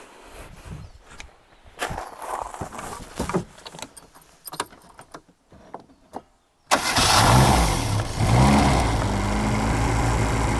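A 1998 Reliant Robin is cranked by its starter with uneven bursts and gaps, then its engine catches and runs loud and steady close by; a key jangle comes near the start.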